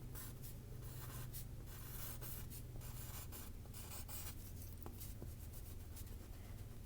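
A pen or pencil writing out the date by hand on paper, a steady close scratching made of short repeated strokes with small pauses, and no talking.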